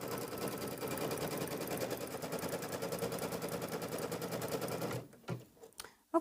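Embroidery sewing machine stitching a tack-down line over quilt batting in a hoop, a steady rapid mechanical chatter for about five seconds that stops abruptly, followed by a few soft clicks.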